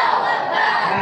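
A large crowd shouts a takbir together at a Maulid Nabi gathering at an Islamic boarding school, a loud, unified response, a short roaring burst of many voices.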